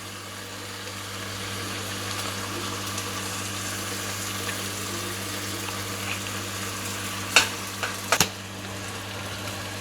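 Tomato paste frying with meat in a pot of homemade stew, giving a steady, close sizzle throughout, with a couple of sharp spoon knocks from stirring near the end.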